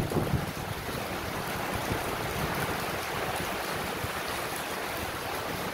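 Steady, heavy rush of water pouring continuously from a fountain during a sudden downpour, a dense broadband roar with no pauses or voices.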